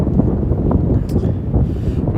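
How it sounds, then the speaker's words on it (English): Wind buffets a microphone outdoors on a night walk through Williamsburg, Brooklyn, a loud low rumbling gust that fills the short moment with no speech. "A little windy."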